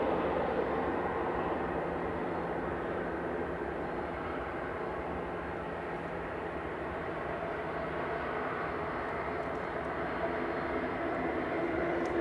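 Ryanair Boeing 737-800 arriving from Londonderry at Manchester Airport, a distant, fairly faint and steady jet rumble that holds alone throughout.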